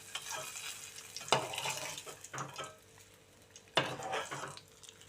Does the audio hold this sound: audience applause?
no